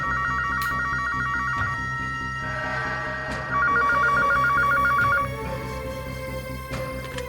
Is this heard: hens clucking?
no